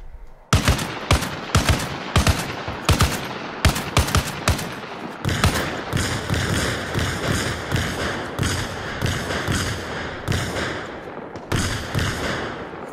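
Machine gun fire from an aircraft strafing run in the military game Arma Reforger: rapid bursts of loud, close gunshots in stuttering clusters, giving way to a denser sustained rattle of fire with rolling echoes.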